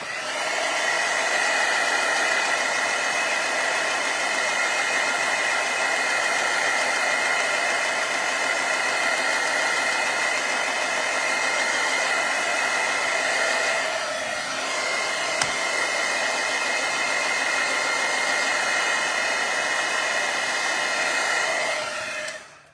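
A hair dryer blows continuously on craft paint, a steady loud whooshing whine with a slight dip partway through before it cuts off at the end.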